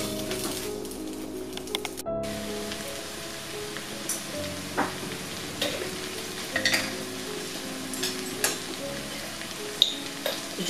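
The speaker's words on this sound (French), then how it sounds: "Je vais mettre les couverts et cuire pendant 5 minutes au feu doux." Andouillette cooks in a pan over low heat, sizzling in a steady soft fry with occasional faint clinks and stirring, close up and continuous with no talk.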